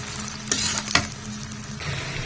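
Potatoes frying in oil full of foam left from frying quail eggs sizzle steadily at moderate volume, with a couple of sharp clinks or stirring knocks.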